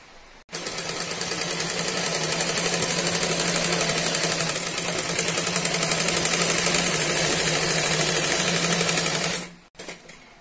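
Electric sewing machine stitching old saree pieces together into a bed cover, a fast steady mechanical whir with rapid needle rhythm that starts abruptly, runs continuously for about nine seconds, then stops.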